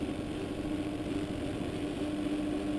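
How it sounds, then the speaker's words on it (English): Several 450-class motocross bikes in MX Simulator hold revs on a supercross start line at Arlington, a steady, dense engine drone with a constant buzzing hum, no talk over it. "Everybody lined up, getting those revs up and ready to go racing."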